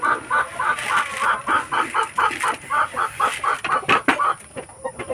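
Free-range heritage chickens cluck in short repeated bursts close by, a busy rhythmic chatter of several birds with a few sharper calls mixed in.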